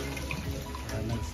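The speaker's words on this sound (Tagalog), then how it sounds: "Sump pump, gawa ng sump pump mo." Water from a basement sump pump drains in a steady, faint splashing rush, continuous and even for the whole moment with no voices.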